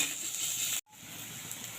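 Grated ginger and garlic hit a pan of lightly fried onions, giving a steady close sizzle that cuts out for a split second and then resumes at the same level.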